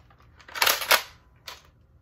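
Nerf Sideswipe blaster firing foam darts at a stack of boxes, heard as two quick close sharp pops in succession followed by a fainter third snap, no talking.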